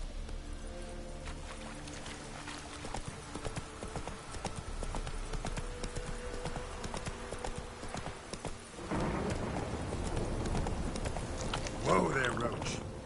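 Hooves of Geralt's horse Roach clip-clop at a steady trot in The Witcher 3, with game music and ambience underneath; the surroundings grow busier and louder partway through.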